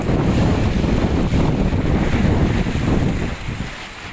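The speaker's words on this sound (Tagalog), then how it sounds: "Kahit malalaki yung alon." Big waves roll in on the open sea by a pier in Mindoro, making a constant loud wash of surf under strong wind noise that eases slightly near the end.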